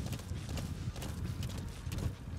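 A horse gallops in Metal Gear Solid 5 with a steady, rapid clip-clop of hooves, moderately close and continuous, set against a low rumbling game background.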